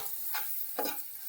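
A spoon stirs turmeric, chili powder, coriander powder and salt in a pan for a village-style winged bean dish, two soft scraping strokes over a faint sizzle, quiet and close.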